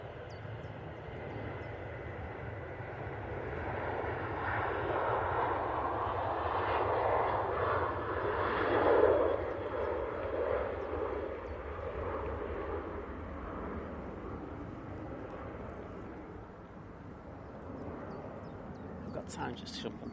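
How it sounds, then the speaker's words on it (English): A Ryanair jet departs for Béziers, its engine rumble swelling gradually to a peak and then easing off, fairly distant and mixed with outdoor ambience at an airport. "this Ryanair is off to Béziers"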